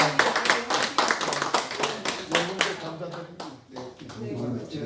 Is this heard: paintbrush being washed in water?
no